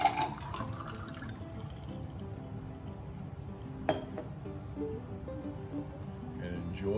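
A summer beverage pours from an opened cocktail shaker into a glass: a soft, continuous liquid trickle with a sharp clink partway through, set against faint background voices.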